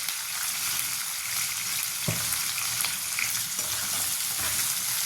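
Cumin, mustard seeds and onion fry in hot oil for a spicy brinjal, potato and tomato dish, giving a steady, close sizzle with one soft stirring knock partway through.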